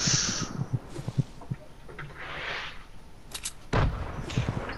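Grenades burst in the Fortnite video game as a cluster of dull, booming thuds, several irregular blasts spread across a few seconds with rumbling tails and a sharper crack near the end.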